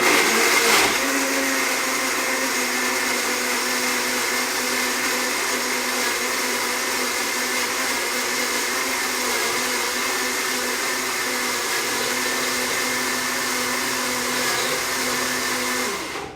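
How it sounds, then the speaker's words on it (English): A home blender pulses frozen blueberries into maple ice cream, a loud, steady roaring whir that runs almost unbroken for about fifteen seconds before cutting off. "a blender going around that sounds like an aircraft carrier"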